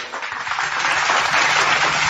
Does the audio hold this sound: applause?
yes